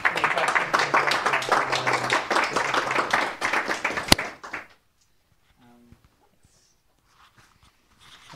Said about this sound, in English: Let's give another round of applause for Bo.